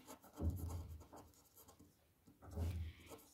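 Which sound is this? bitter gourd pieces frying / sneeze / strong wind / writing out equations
writing out equations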